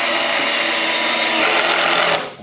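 A Bosch GSR 10.8V-LI-2 cordless drill driver running steadily at high speed, loud and close, with a whining buzz that cuts off at the end.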